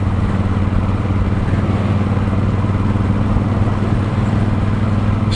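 A motorcycle rides a bumpy dirt road on Route 66, its engine a steady, loud, close drone with a constant low rumble and rattling clatter throughout.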